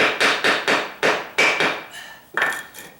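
A brick paver is struck repeatedly with a hammer to set it down into sand, giving about nine sharp, close knocks in an uneven rhythm with nothing else heard.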